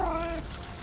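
A cat rummaging through food in a kitchen gives one short, faint meow that fades quickly into quiet room tone.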